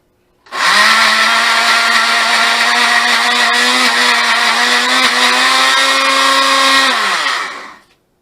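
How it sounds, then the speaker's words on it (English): A blender whirs loudly and steadily for several seconds blending avocado gazpacho, its motor pitch dipping slightly before it winds down and stops. "so as not to overstress your blender or your food processor"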